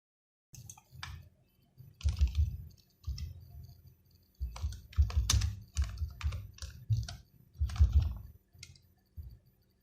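Someone types a search query on a computer keyboard, producing close, crisp keystroke clicks in quick bursts separated by short pauses.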